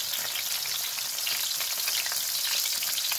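Chopped onions sizzling in hot oil in a pan while cooking squid adobo, a steady dense crackle that runs unbroken and fairly close, with no talking.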